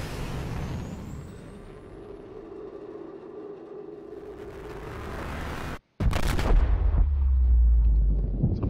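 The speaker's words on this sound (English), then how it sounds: "Big ass explosion." Subnautica video game explosion: steady underwater ambience is cut by a short silence, then a loud, deep, rumbling blast that rolls on for several seconds.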